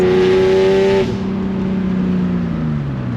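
A straight-piped BMW 328i E36 wails loudly at high RPM for about a second, then the engine note drops and rasps lower as revs fall, close and harsh with no talk.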